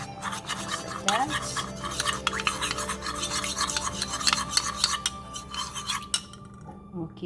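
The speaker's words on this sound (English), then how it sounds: "Are going to mix our water and cornstarch." Cornstarch and water stirred into a slurry in a small bowl or cup, a continuous close scraping swirl with light clinks of the utensil, ending abruptly.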